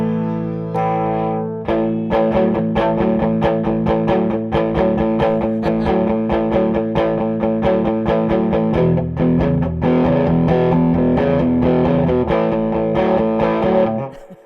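A Fender '50s Squier Stratocaster with Steve Lukather EMG SL20 pickups plays loud, distorted chords through the humbucker with a strong presence boost, with a chorus-like shimmer and no talking.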